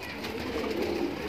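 Allahabadi kale par pigeons in a loft give a brief, soft, close coo over a steady low background hum, with no talking.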